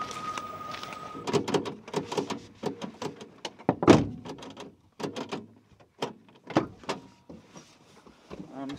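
Someone repeatedly tries the door of an 800 cc Japanese car, producing a string of sharp clacks, rattles and thumps in irregular bursts with brief pauses between them, close and fairly loud.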